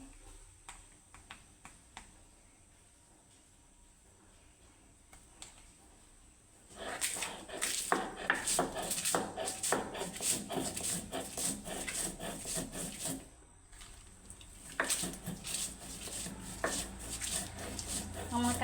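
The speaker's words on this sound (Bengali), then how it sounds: "সামান্য পরিমাণে লবণ দিয়ে এটাকে এখন সুন্দরভাবে বেটে নেব আমি" Dried fish is ground with a little salt into a bhorta paste, making rhythmic rubbing and scraping strokes that start after a quiet stretch, pause briefly, then resume at a steady pace.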